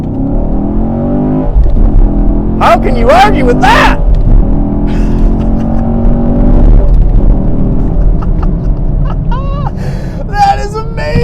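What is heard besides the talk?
sports car engine accelerating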